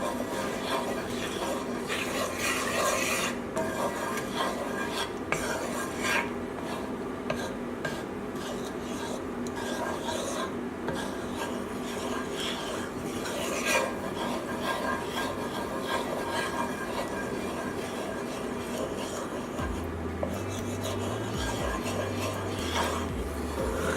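Steady scraping and clinking of a utensil working through coq au vin with bone-in chicken, butter and thyme in a pot, a continuous close textured stirring noise that carries on for the whole span with a low hum near the end.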